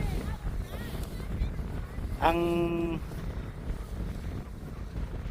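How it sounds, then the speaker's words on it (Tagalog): Strong wind buffets the microphone outdoors at the Tisdale artificial mountain in Canada in winter at about +2 degrees, a constant low rumbling roar, with people talking and a brief tonal squeak partway through. "Kaya lang sobrang hangin."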